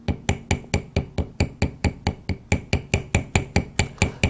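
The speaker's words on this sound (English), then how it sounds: "I personally like using the ball peen end of the chasing hammer and continue the motion going in a circular motion around the top of the rivet." A ball peen chasing hammer taps steadily on the top of a rivet, about four light metallic strikes per second in an even, unbroken rhythm, close and clear with no talking.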